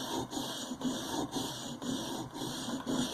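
A wood carving tool is drawn over an oiled sharpening stone in repeated even strokes, each a soft rasping scrape, recorded close and quiet with no talking.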